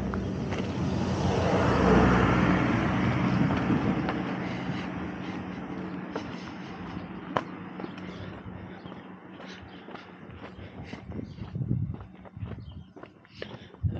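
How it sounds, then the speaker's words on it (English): A car passes along a road in Anaxos town on Lesbos, swelling to a broad rush in the first seconds and fading away, followed by quieter outdoor ambience with scattered clicks and light footsteps. "Another car."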